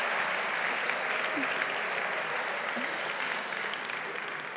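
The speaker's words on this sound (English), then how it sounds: "Give them a big, big round of applause." Sustained applause from an audience at a pitch competition, steady dense clapping that carries through the whole stretch and tapers slightly toward the end, with some voices faintly mixed in.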